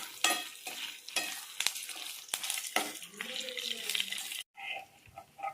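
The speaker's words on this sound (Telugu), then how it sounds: "వీటిని బాగా ఫ్రై చేసుకోవాలి" Dry red chillies and other ingredients for curry leaf chilli powder fry in a pan with a crackling sizzle, broken by repeated stirring scrapes, close and moderately quiet, then a brief silence before the sizzle resumes.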